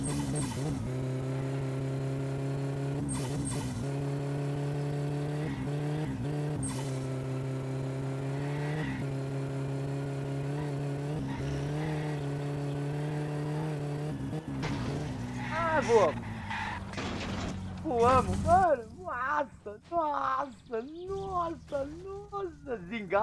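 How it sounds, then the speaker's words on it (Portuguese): A car in the driving game My Summer Car runs with a steady, loud engine drone for a long stretch. Its pitch then wavers and swoops, with bursts that suggest tires squealing or skidding. "O carro vai passando"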